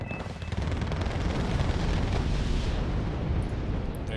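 Mortar shells exploding in the war strategy game Wargame Red Dragon, a continuous dense rumble of overlapping blasts, loud and sustained, with no voices.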